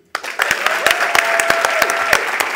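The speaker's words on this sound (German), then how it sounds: "nochmal einen fetten Applaus für dich" Audience applause at a live German gameshow, a burst of clapping starting abruptly and sustaining steadily, fairly loud and close, with a few sharper individual claps standing out.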